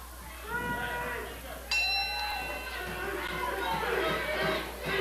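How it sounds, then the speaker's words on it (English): A ringside bell sounds at the start of a professional wrestling match featuring a heavyweight over 350 pounds, a single bright ring with lingering tones, heard beneath continuous commentary and crowd noise. "There's the bell."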